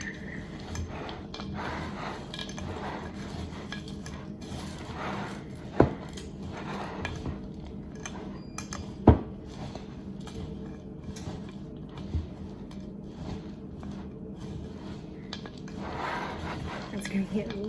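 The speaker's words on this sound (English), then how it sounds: "I'm just gonna give it a big stir" A homemade granola mixture gets a big stir in a bowl, giving a soft, steady scraping rustle with a couple of sharper knocks against the bowl, quiet and continuous under occasional talk.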